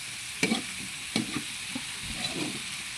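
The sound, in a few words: meat frying as it is added to sautéed mixed vegetables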